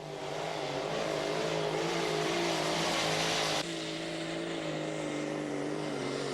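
A pulling tractor at an ATPA Super Farms tractor pull in Goshen, Indiana roars at sustained full throttle, a loud, dense engine howl that holds steady and then dips slightly partway through, with no talk.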